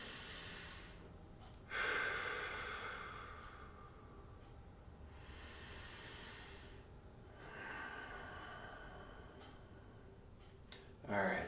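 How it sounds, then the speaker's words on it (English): Two slow, deep breaths in mountain pose at the start of a yoga session, each a soft airy inhale-exhale swell, fairly close and quiet, separated by a pause. "we're just going to take 2 deep breaths to get started"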